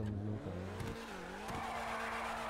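A new car in the GTA Online video game revs its engine, and its tires squeal sharply in a short skid. The engine tone shifts as the screech rises, all close and prominent.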